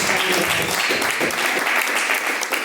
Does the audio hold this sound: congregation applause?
yes